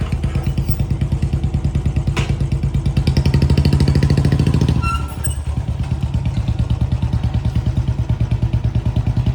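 A Royal Enfield Bullet motorcycle engine thumps steadily nearby in a strong, even single-cylinder beat. The note swells briefly as it revs, then eases back into a regular chugging rhythm.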